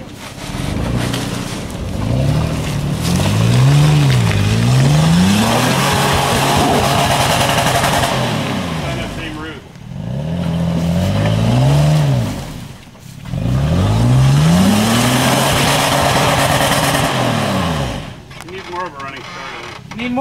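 A car lapping a wall-style race track, its engine rising and falling in loud revving sweeps as it accelerates through the turns, with people talking over the engine throughout.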